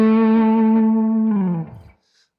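A short electric blues guitar lick in A with effects, a single sustained distorted note held and then bent or slid down before fading out, close and alone.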